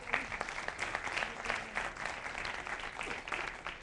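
A human rights speaker is welcomed with a short, faint round of audience applause, a dense steady patter of many hands clapping at a distance.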